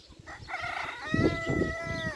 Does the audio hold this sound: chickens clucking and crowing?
yes